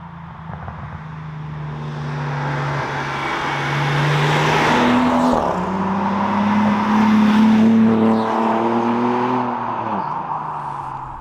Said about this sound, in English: we'll jump in, say, the M240i first, go for a drive